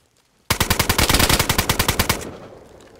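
Sustained automatic gunfire in DayZ, a rapid burst of roughly twenty loud, evenly spaced shots lasting about two seconds before cutting off into a fading tail.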